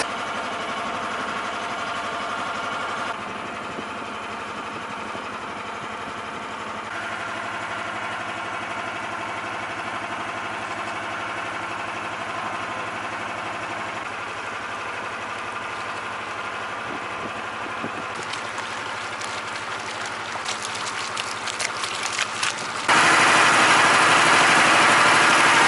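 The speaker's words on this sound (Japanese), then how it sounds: "もう昔ながらのポンポン船です。 いわゆる一つの焼き玉エンジンです。" An old hot-bulb engine on a traditional pom-pom boat runs in a steady, droning thrum for a long stretch, close and even, with a louder surge of noise near the end.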